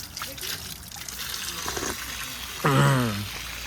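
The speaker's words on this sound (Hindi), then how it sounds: "तो ये देखो यार स्रोत का पानी बढ़िया ठंडा ठंडा" Cold, fresh spring water flows steadily beside a road in the Uttarakhand hills, a continuous close trickling wash heard throughout, with a voice briefly rising over it near the end.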